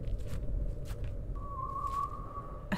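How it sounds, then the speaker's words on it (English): Eerie whistling in a Japanese folklore-inspired survival horror game: a single sustained tone rises in from midway and holds steadily over a dense low ambient rumble with faint footstep-like thuds. "Oh, what is that whistling?"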